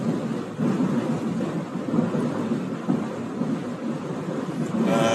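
Thunder from a lightning storm during an Oklahoma storm chase with hail and tornado threat rolls as a low, continuous rumble mixed with wind buffeting the microphone, loud and sustained throughout.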